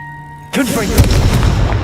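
A Confringo spell blast in the Hogwarts Legacy video game, starting abruptly after a quiet hum with a sharp crack and a booming, crackling burst that rolls on under a loud voice.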